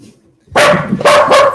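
Dogs bark loudly and close by in two or three sharp bursts after a brief quiet, with no talk over them.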